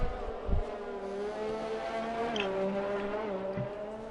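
Racing cars, including a Ferrari, drive on the track at a Brazil round of an F5 racing event, their engine drone rising and falling steadily at mid distance with a brief tire squeal, and no voices.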